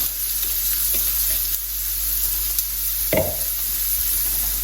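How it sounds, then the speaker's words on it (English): Vegetables frying in rapeseed oil in a pan over medium heat, a constant close sizzle with a brief louder spit and stirring scrape partway through, no talk. "I'm just going to fry those vegetables off."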